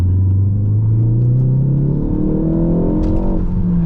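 Mk4 Ford Focus ST Edition, its engine rising steadily in pitch under load, then blipping during a rev-matched downshift, heard loud and close from the cabin.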